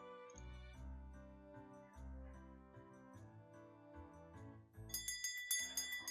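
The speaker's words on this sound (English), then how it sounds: "A soft bell rings out as I walk into a rustic little shop" A soft shop door bell rings inside the farming game Peachleaf Valley, a quick cluster of bright tinkling chimes at the end over gentle melodic background music, with no talk.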